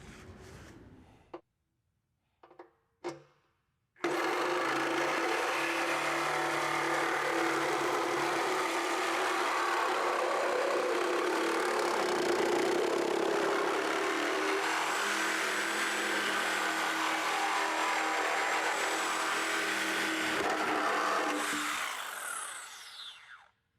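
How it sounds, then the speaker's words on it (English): A Milwaukee Sawzall with a bimetal blade cuts through a 2008 Ford Focus OEM bumper beam. It runs as a loud, steady, buzzing rasp for about twenty seconds after a few short knocks and starts, then winds down. "Notice I have a Milwaukee Sawzall with a regular bimetal blade."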